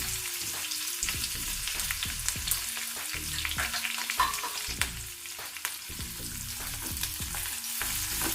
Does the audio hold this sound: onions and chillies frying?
yes